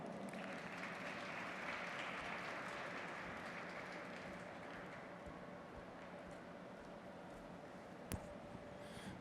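An audience at an interfaith convention session gives a sustained round of applause to welcome a speaker. The clapping is steady and crowd-wide, then slowly fades toward the end.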